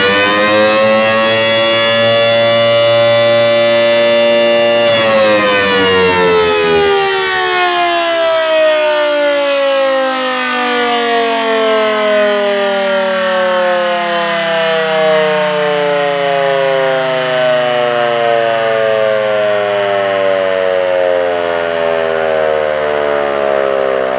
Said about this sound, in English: it runs like a Model 2 siren